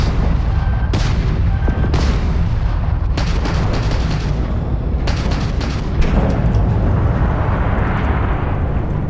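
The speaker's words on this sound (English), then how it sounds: "Hit them with the lasers. We've got incoming missiles." Space combat in the game Starfield, with repeated loud booming blasts and sharp laser-like bursts over a constant heavy rumble of engines, dense and close throughout.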